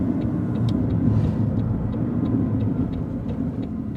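A 2019 McLaren 600LT turbocharged engine drones low and steady from inside the cabin while driving, with faint ticking clicks over the continuous rumble.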